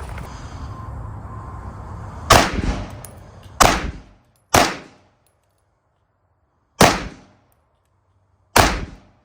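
Gunshots fired at backpack body armor outdoors, five loud separate cracks spaced a second or two apart, each with a short ringing decay into silence, the first following a stretch of background noise.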